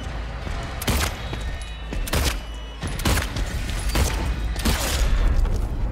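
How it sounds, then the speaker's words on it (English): Repeated gunfire from the Silent Hill 2 Remake survival horror game: several loud, sharp shots spaced about a second apart over a steady rumbling in-game background. "I think you're not supposed to shoot his head."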